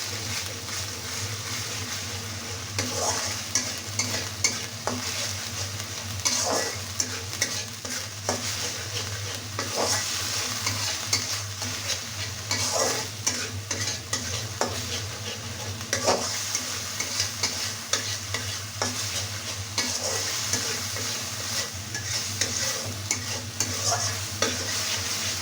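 A spice paste of onion, ginger, garlic and cumin fries in foaming mustard oil, a constant close sizzle broken by regular scraping strokes of a spoon stirring the pan.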